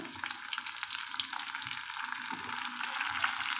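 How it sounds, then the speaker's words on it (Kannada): Tomatoes tipped into onions already fried in hot oil, giving a steady crackling sizzle with light stirring scrapes, close and fairly quiet, with no voices. "ಇದಕ್ಕೆ ಈರುಳ್ಳಿ ಫ್ರೈ ಆಗಿದೆ ಇದಕ್ಕೆ ಟೊಮೊಟೊ ಹಾಕ್ಕೊಳ್ಳೋಣ"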